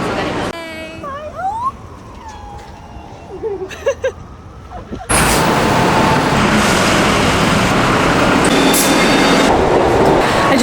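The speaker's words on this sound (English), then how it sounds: "I just got the subway to like Empire State Building area" A New York City subway train, first with squealing wheel and brake tones and scattered clanks, then a loud steady roar of the train rushing past or running at speed that fills the rest.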